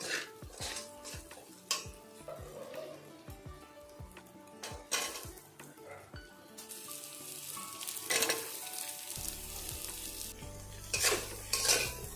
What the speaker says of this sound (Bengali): সবজিগুলো দিয়ে ভালো করে একটু কষিয়ে নিতে হবে